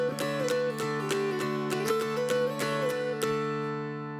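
Mountain dulcimer playing Old Joe Clark in the Ionian major scale, bright plucked melody over a steady drone, close and clear with strummed accents, no voices.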